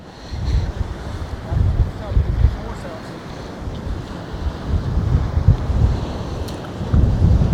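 Wind buffets the microphone on Utah Beach in Normandy, with a low rumbling surf rolling in underneath, loud and continuous with gusty swells.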